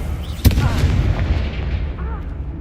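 The Confringo explosive spell going off in Hogwarts Legacy: a sharp, loud boom near the start that rolls into a rumbling tail, over a steady background of game noise.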